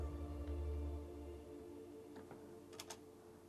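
Computer keyboard keys are pressed on a PC while a Tomb Raider free camera is set up, a few faint, sparse clicks that end in a quick pair of sharper taps over quiet room hiss.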